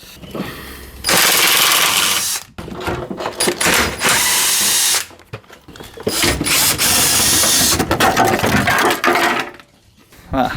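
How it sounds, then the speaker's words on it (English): Power ratchet or impact tool loosening the four 10mm bolts holding a small bottom pan on a Toyota T18-based drift car build, in loud bursts of buzzing with short pauses between, no talk. "I'm going to remove this wee bottom pan here, just to give us a little bit more room. It's held in by 4 10mm bolts."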